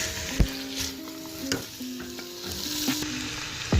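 Chicken macaroni with boiled peas stirred in a pan over a soft sizzle, with scraping strokes and sharp clinks of the spoon against the metal and background music playing underneath.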